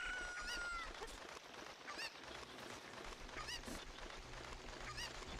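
Chickens clucking and squawking in an Ocarina of Time randomizer game, several bursty calls repeating against a faint background, quiet overall with no talk.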